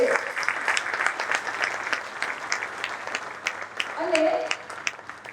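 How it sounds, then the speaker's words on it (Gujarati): An audience at a talk breaks into a burst of hearty applause, dense clapping filling the room near and loud for several seconds before thinning slightly. "આપણા કર્મયોગીઓને એકવાર જોરદાર તાળીઓથી વધાવી લઈએ"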